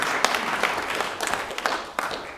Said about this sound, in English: Let's give a round of applause to Dermot.